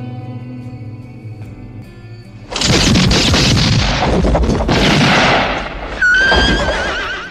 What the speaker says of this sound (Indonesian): Tanpa basa-basi, No-Name langsung menembak mereka.